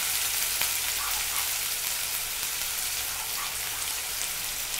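Chopped onions sizzling steadily in a hot pan for a tomato and peanut curry, a dense, even hiss close up that runs unbroken throughout, with no voices.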